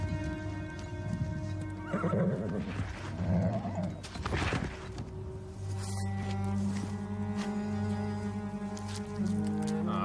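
Horse in the video game Ash of Gods Redemption whinnies loudly alongside clip-clopping hooves, layered over a steady sustained game music drone with no talk.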